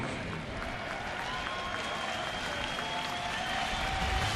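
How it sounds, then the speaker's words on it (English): Baseball stadium crowd applauding Dwayne Wise at a Toronto at Chicago White Sox game, a steady broad roar of clapping and cheering that holds evenly throughout, with faint voices mixed in. "And he gets a nice round of applause."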